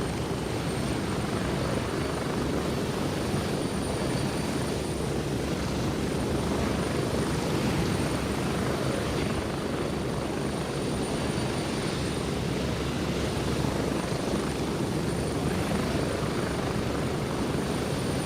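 A helicopter in the video game Gray Zone Warfare lifts off, its steady rotor thrum and engine roar filling the scene loudly and continuously throughout, with no talking.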